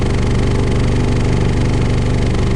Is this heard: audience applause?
no